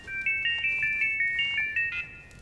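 A mobile phone ringtone plays as a quick, bright electronic melody of short repeating beeps, loud and clear, with no voices over it.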